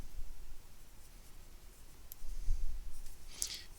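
Handwriting during a quick sketch of a calculus graph, soft scratchy strokes of a pen or marker, quiet and close, with a brief sharp squeak near the end.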